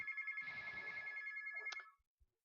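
A telephone rings with a sustained bright electronic tone that cuts off abruptly, leaving a couple of faint clicks in near silence, moderately quiet and without voices.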